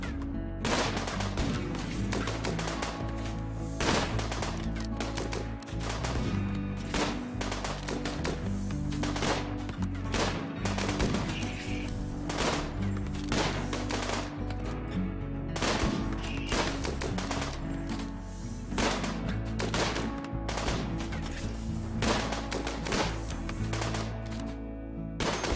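Long, dense bursts of gunfire in RimWorld as colonists shoot down walls, rapid overlapping shots and clattering volleys repeating loudly for the whole stretch, with no voices.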